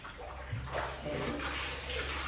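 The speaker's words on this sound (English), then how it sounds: "So now I'm gonna do a rinse on the hair. Rinse of the shampoo." Water runs steadily from a tap as shampoo is rinsed out of a curly wig, making a continuous close hiss and splash with slight shifts as the flow hits the hair.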